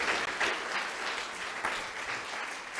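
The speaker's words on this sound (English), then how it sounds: "If I could have you guys give Dr. Herzing one more big round of applause as a thank you." Audience applause in a library after a talk on dolphins, a short burst of moderately close clapping from a modest crowd, fairly even with slight swells.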